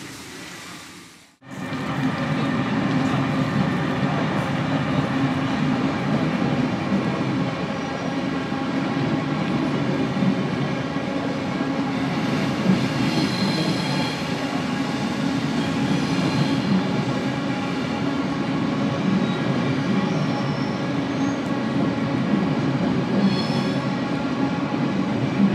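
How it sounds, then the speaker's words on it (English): A long train rumbles past close by near Interlaken, Switzerland, after a brief quiet start, a long steady roar of wheels and cars with occasional faint squeals. "That's a long train, that one."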